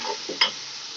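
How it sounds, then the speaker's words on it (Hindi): Spices and masala with crushed black pepper sizzle briefly in a pan for chana pulao, with a soft stir and one sharp scrape of the spoon midway, close and moderately loud. "अब इसके साथ इसको अच्छे से भूनते हैं"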